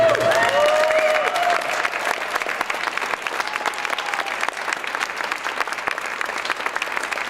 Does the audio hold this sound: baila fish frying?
no